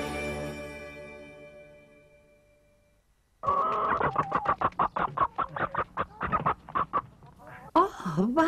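A hen clucks in a rapid series of short, close calls that end in a louder squawk, following a quiet, fading tone.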